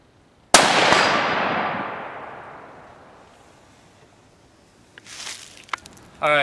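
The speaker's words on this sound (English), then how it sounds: "that was one shot out of a 308 from 100 yards" A single .308 rifle shot from a Marlin X7 with Federal full metal jacket ammo rings out against an AR500 steel target at 100 yards, one sharp loud crack followed by a long decaying echo and faint noises afterward.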